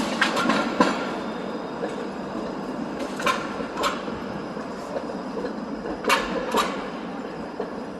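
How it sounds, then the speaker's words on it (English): Streetcar rolling through the College and Bay intersection in downtown Toronto, with rail clacks and squeals at steady intervals over a constant city traffic hum. "you can take the streetcar right along here, basically to get from the east to the west part of the city"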